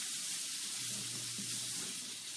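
Chicken thighs frying in a pan, a steady hissing sizzle heard close and alone for a couple of seconds.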